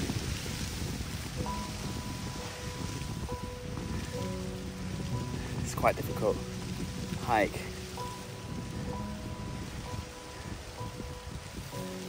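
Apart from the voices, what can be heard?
rain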